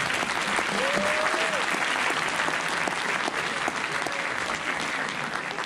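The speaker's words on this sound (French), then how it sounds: "vous pouvez les applaudir" A cinema audience at a quiz night applauds the staff, a thick even wash of clapping from many hands held throughout, with a brief whistle early on.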